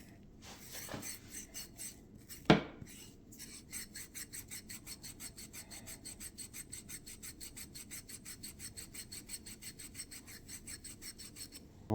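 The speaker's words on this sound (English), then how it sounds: "So we're going to polish a little bit more." A kitchen faucet spout is polished by hand with a steady, rhythmic rubbing and rasping, quick repeated strokes close by, broken once early on by a sharp knock.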